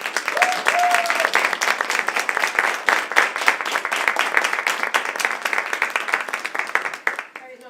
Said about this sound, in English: So if we could give you a round of applause.